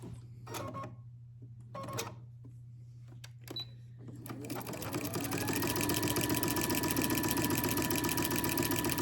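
A sewing machine stitching quilt binding: a few short taps and clicks at first, then the motor spins up into a loud continuous whirring run close by.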